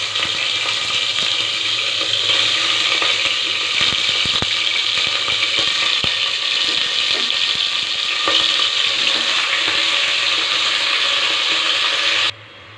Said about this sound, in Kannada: ಕುಕ್ಕರ್ಗೆ ಒಂದು 4 ಸ್ಪೂನ್ ಎಣ್ಣೆ ಹಾಕ್ಕೊಂಡಿದ್ದೀನಿ. ಸೊ ಇವಾಗ ಚಿಕನ್ ಹಾಕ್ತಾಯಿದ್ದೀನಿ.